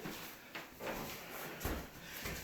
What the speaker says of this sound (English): And I'm going to open up the office door here.